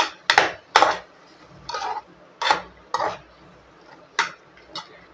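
Brinjal and black chickpeas with salt being sautéed in a pan for a curry, heard as about eight separate scraping, clattering spatula strokes at an uneven pace, close by, with quiet gaps between them.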